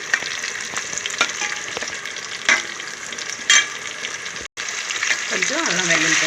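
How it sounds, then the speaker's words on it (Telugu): Sliced onions with ginger-garlic paste fry in a pan for mutton curry, a loud, close, constant sizzle with occasional stirring scrapes, and a voice briefly joins near the end. "ఉల్లిపాయలు ఫ్రై అవుతున్నాయి అన్నమాట ఇందులో కొంచెం అల్లం వెల్లుల్లి పేస్ట్ కూడా వేసేసుకున్నాను"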